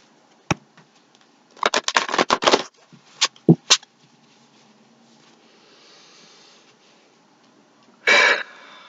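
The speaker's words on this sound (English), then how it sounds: "Do one more shuffle." Several quick bursts of tarot cards being shuffled and riffled, close by, with short rustling clusters, pauses, and a final longer shuffle.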